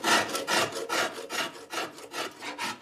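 Rhythmic strokes of a rasp shaping a wooden bow blank in a bowyer's workshop, about ten loud, close scraping passes in even succession with no talk.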